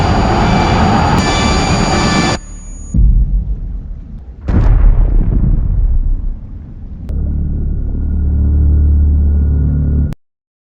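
A helicopter explodes and plunges into the sea in a film about a deadly mysterious fog. Loud, roaring blasts and heavy rumbling come in abrupt bursts, broken by sudden cuts and ending in a long, low roar.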